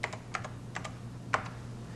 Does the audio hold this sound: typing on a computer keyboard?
yes